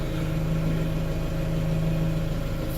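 A tractor with a front end loader idles nearby, a steady, unbroken low engine drone with a constant hum and no voices.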